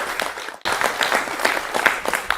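Clapping, a loose run of hand claps picking up after a brief gap, fairly close and moderately loud, with a faint murmur of voices underneath.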